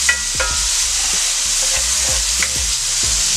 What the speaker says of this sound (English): Get our onions moving around in here just a little bit.